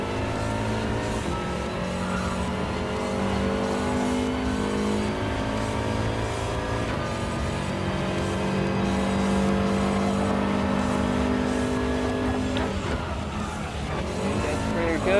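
Several race cars in Gran Turismo Sport roar through a hairpin corner during a triple overtake, with steady layered engine tones and shifting pitch throughout, loud and continuous, with faint commentary underneath.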